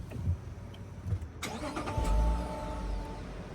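A 2025 Lexus GX550 Premium Plus engine cranks and catches after a quiet moment, then settles into a steady, close idle with a low rumble.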